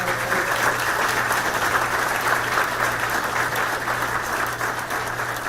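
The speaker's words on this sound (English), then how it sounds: "Let's give them all a round of applause" Sustained, loud applause from a large crowd fills the whole stretch, dense and even without letting up.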